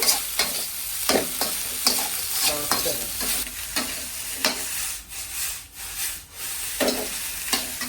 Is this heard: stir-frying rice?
yes